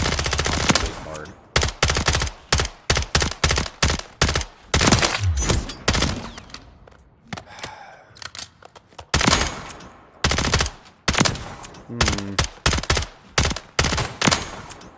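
Video game gunfire from a gun with recoil, bursts of rapid automatic shots separated by short pauses, loud and close throughout.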